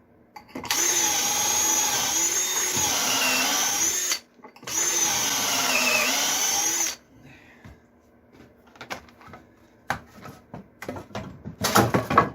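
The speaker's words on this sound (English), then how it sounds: "glue up my rafters, put some pocket holes in them, since this whole job is done with pocket holes" A power drill bores pocket holes in wooden rafters, running in two long loud whining bursts, then falling to quieter clicks and handling knocks.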